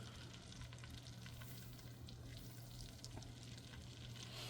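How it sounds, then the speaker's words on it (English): Butter sizzles steadily in a hot pan, a constant crackling hiss with a low hum underneath, and no voices. "And it's sizzling,"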